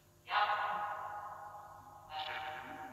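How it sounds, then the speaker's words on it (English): A spirit box app set to reverb gives two faint, hollow sweeps of ringing, echoing tone, each fading slowly into a quiet room, with no voices. "we're going to stop it and we're going to just turn on the reverb"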